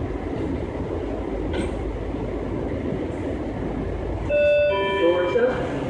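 An Orange Line metro train to New Carrollton rumbles steadily, then a chime and a hiss of doors opening sound near the end, with a voice speaking over the noise.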